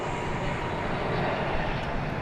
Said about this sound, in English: Here comes that Japan 777. Japan Airlines 777.